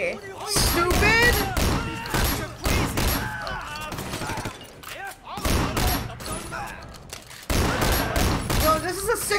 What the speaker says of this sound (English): Yo, this is a sick shotgun.